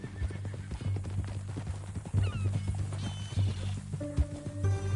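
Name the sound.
horse in a video game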